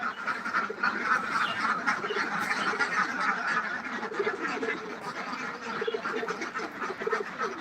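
A flock of farm ducks quacks continuously on a winter morning, many overlapping calls at close to middle distance, loud and busy, with no talking.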